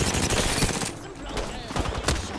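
Rapid automatic gunfire in Apex Legends, dense bursts of shots crackling across the clip with brief lulls, loud and close, with players talking underneath.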